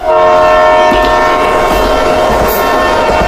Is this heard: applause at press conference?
no